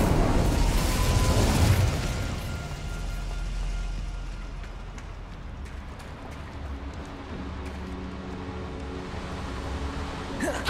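Incendio fire spell cast in Hogwarts Legacy: a loud whooshing burst of flame in the first two seconds, then a lingering rumbling roar and crackle that slowly fades under a low game hum.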